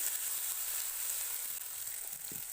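Chopped tomato frying in catla fish oil in a pan while being stirred gives a steady, even sizzle with a soft hiss throughout and no voices.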